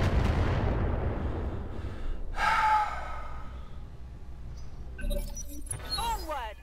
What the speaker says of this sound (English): here comes the rest of the missiles